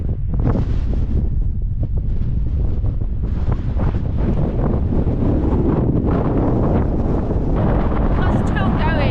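Strong gusting wind on an exposed mountain climb in Snowdonia, roaring and buffeting the microphone loudly and continuously, with faint, barely audible talk beneath it.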